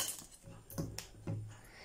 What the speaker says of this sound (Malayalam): നന്നായി മൂടി നല്ല ടൈറ്റിലായിട്ട് മൂടി എടുത്ത് വെക്കാം